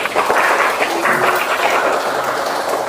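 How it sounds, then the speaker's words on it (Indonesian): Students in a classroom clap for a classmate after a presentation, a loud, steady spread of hand claps with no clear pause. "tepuk tangan dulu untuk kawannya"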